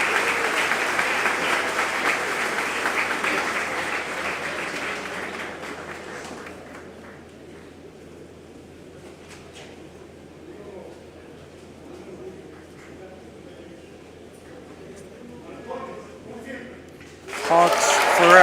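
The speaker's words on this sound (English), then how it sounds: "Applause and cheers." An audience at a spring colloquium at Universidad Tecnológica de Coahuila claps and cheers loudly at first, then the applause thins out to scattered claps before a loud burst near the end.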